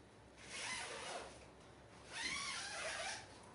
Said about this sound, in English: And you can unzip it when you find the zip.